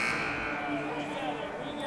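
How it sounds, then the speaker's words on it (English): A long, steady electronic buzzer ending a college ice hockey period drones continuously in a reverberant arena, with crowd noise and talk underneath. "A long buzzer here to signify the end of the period."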